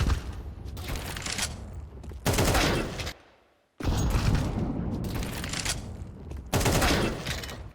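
Bursts of rapid gunfire in Counter-Strike 2, loud, dense volleys separated by a brief silent gap, with a final sharp burst near the end and no speech.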